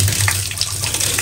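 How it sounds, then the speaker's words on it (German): Water running from a tap into a clogged drain during plunger-style cleaning, a loud, close, continuous gushing rush over a low hum, brief and without talk. "Jetzt lasse ich hier mal Wasser reinlaufen."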